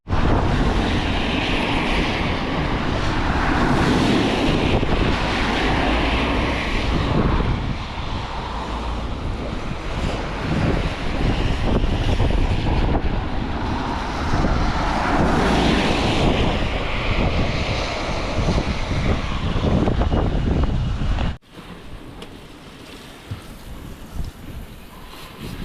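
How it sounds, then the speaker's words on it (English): Heavy rain pounding down while cycling on a mountain bike, a dense, loud continuous roar of water and wind noise close to the microphone, cutting abruptly to a quieter patter near the end. "it's absolutely chucking it down"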